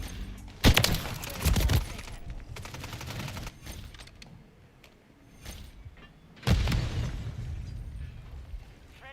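Cruise missile blasts in Call of Duty Modern Warfare III, two heavy explosive bursts several seconds apart, each with a rolling rumble and crackle, over quieter scattered gunfire between them.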